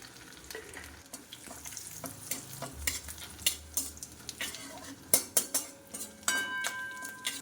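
Dry red chilies, a bay leaf and panch phoron spices frying in hot oil, a soft sizzle broken by repeated scraping and clinking of a metal spatula against the pan, growing busier toward the end with no voices.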